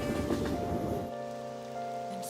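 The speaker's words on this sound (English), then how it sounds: "Oh no, it's raining." Rain in the video game Persona 5 Royal, a steady patter that eases after the first second under sustained musical tones from the game.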